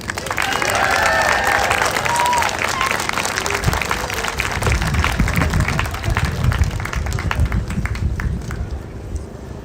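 A crowd at the Trans Unity Rally outside the U.S. Capitol applauds and cheers in a loud, continuous outdoor roar of clapping and raised voices, with shouting at the start and applause carrying through to the end.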